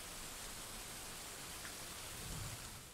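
Rain falls in the video game Dwarf Fortress, a soft, steady hiss of downpour that stays faint and even throughout with no voices.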